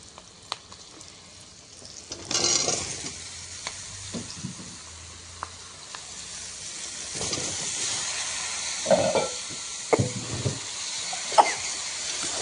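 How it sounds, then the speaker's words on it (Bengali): Bottle gourd is stirred into hot oil with spices, giving a steady, close sizzle and hiss broken by occasional spoon scrapes and clinks against the pan. "এখন লাউয়ের সাথে ভালো করে মিক্স করে নেই।"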